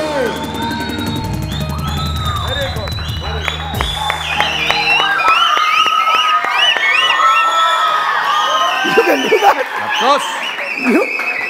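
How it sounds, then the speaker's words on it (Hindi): A TV morning-show studio audience claps and cheers for a young singer named Rosemary, with whoops and shouts rising over fading music and lively talk from hosts. "बहुत सारी तालियां रोजमेरी के लिए।"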